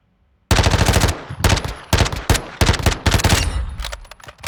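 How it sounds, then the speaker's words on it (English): MP5 submachine gun from Modern Warfare 2 fired at training dummies in several loud, close bursts of rapid automatic fire separated by short pauses, with a brief quiet lead-in. "Next up we have the MP5, the one and only everyone loves."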